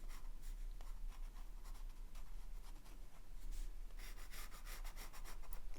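An ink pen scratches across paper in short, quick strokes, a faint close-up scritching that comes in rapid bursts, busier toward the end, with no voice over it.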